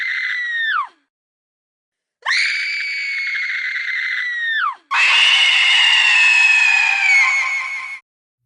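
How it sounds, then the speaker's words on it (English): A woman's dramatized screams after a knife slash: one short high cry, a pause, then two long piercing shrieks, the last raw and strained, loud and close. "She screamed, clutching her wounded hand."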